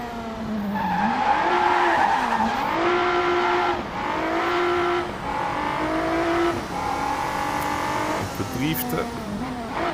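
A race car in the VR racing game Race Club drifts through corners, its tires squealing in long wavering screeches over a loud, rising and falling engine whine.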